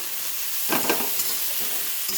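Potatoes and cauliflower fry with onion and carrot in a hot pan, giving a steady, hissing sizzle broken by a few brisk stirring scrapes up close.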